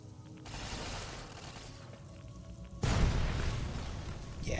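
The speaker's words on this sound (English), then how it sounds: "I'm going to use a grenade" A grenade explosion in Fallout: New Vegas: a sustained broad rumbling blast that swells, then a second, louder burst hits near the end, loud and close with no talk.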